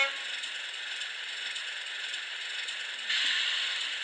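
A Class 37 model railway locomotive's sound decoder plays a brake sound: a faint, steady hiss and rattle that continues throughout and swells briefly toward the end, heard alone.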